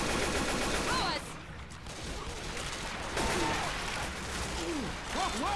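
Gunfire in the zombie shooter Left 4 Dead 2, a dense run of shots with game noise around it and players' voices overlapping.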